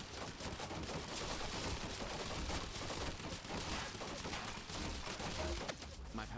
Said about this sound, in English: My powers didn't work on the turret.